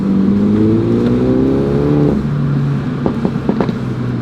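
A car engine revs right after being started outdoors in cold weather, its loud, rising whine sweeping upward and then settling into a rumbling idle, followed by a few sharp mechanical clicks near the end.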